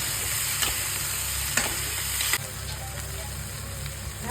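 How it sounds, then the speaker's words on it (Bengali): Green chilli tarka being sautéed at home, with a steady sizzle of frying and occasional spatula scrapes and taps against the pan, close and continuous, with no talking. "এবার এটাকে একটুখানি কষিয়ে নেব"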